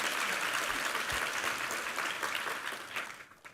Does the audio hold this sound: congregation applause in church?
yes